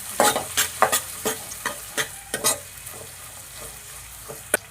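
Fenugreek leaves frying and being stirred in a pan with ginger-garlic paste, a string of sharp scraping and sizzling bursts repeating every half second or so, close and fairly loud, with no talk.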